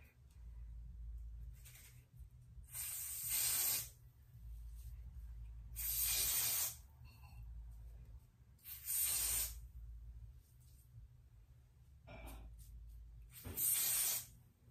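Short bursts of a spray bottle misting along a wig's hairline, five or so hissing sprays spaced a couple of seconds apart, close and fairly quiet, with a low hum underneath.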